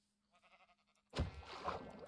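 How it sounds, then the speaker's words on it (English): A sheep bleats in Minecraft, its wavering call soft and short, and then a louder broad rush of game noise cuts in and covers it. "Oh, there's more sheep over here even."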